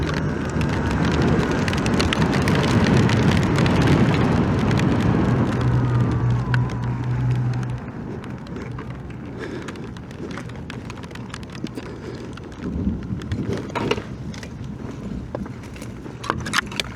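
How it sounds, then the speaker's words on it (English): Heavy rain pours down over an abandoned town in Gary, Indiana, a loud dense hiss with a low rumble for the first half, then easing to a softer, steady patter with scattered drips and no voices. "Wait for this rain to die down a little bit before we explore the rest of the town."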